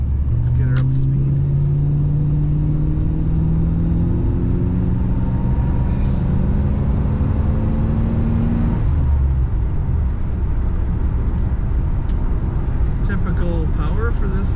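A 1992 Cadillac Brougham D'Elegance with about 55,000 miles picks up speed on the road, its engine rising in pitch and easing off amid steady low road rumble, while someone talks over it.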